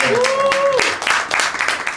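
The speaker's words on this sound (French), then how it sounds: "On applaudit notre régisseur s'il vous plaît." An audience at an improv festival bursts into clapping for the stage manager, a dense patter of hands mixed with a raised voice at the start.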